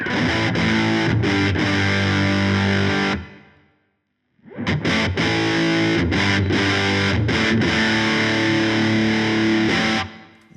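An electric guitar is driven through Wampler TCD and Fulltone OCD overdrive pedals, producing thick distorted chords and riffs that stop for about a second of near silence before starting again just as loud.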